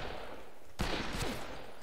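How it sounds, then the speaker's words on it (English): A burst of rapid video game gunfire crackles in a quick volley, fairly faint and distant-sounding over a steady background hiss. "I hear gunshots."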